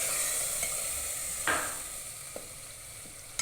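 Spoon stirring cooked chickpeas in a pot with tamarind just added, for green chickpea rice: a steady low sizzle with one clear scrape near the middle and a couple of fainter knocks afterward, no voices.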